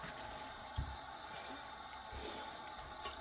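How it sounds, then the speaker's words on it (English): Running water rinses an etched glass oven dish, a soft, steady hiss of flow that lasts throughout, quiet and unbroken, with a few faint low knocks. "I'm going to go ahead and rinse it from this side and I'm going to go ahead and let it dry"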